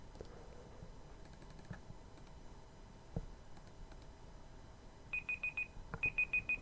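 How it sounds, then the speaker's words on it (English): A cell phone rings in a quiet room with short, bright electronic chirps in two quick pulsing bursts near the end, after a low murmuring background. "Shut up, cell phone."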